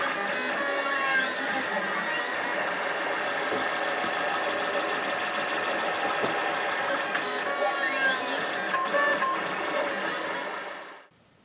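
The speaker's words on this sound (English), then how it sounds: "first of all we'll get this track printed and mounted and check that everything runs okay" A 3D printer prints an ABS track part with a steady whine of stepper motors and shifting pitched tones from the moving head, close and continuous until it stops at the end.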